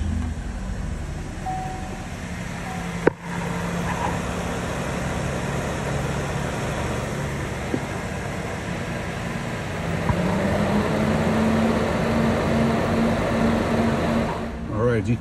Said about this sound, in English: As you can see, the fans are on.